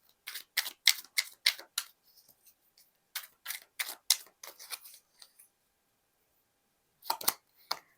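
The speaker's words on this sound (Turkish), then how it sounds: "Hemen bir kart daha almak istiyorum" A tarot card is drawn from a deck, heard as close, quiet runs of crisp papery snaps and flicks in short clusters, separated by silent pauses.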